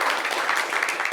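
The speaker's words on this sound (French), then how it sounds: "Applaudissez pour Monsieur Igor." Studio audience applause on a television talk show, a dense steady wash of many hands clapping for about a second with no voices over it.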